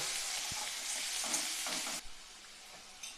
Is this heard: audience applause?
no